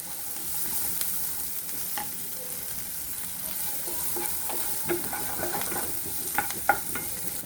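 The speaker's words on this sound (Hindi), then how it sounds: "इसमें मैंने 1 अनियन लिया है चॉप," Chopped onion and garlic fry in butter in a pan with steady soft sizzling, while a spoon stirs and taps against the pan in irregular clicks, close up with no talk.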